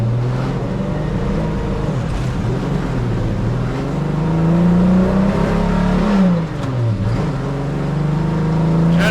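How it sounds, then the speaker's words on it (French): A BMW 3.0 CSL's inline six-cylinder engine at the Montlhéry circuit fires up and revs loud and close, its low steady drone rising and falling through repeated throttle blips with no one talking. "le 6 cylindres mythique qui démarre"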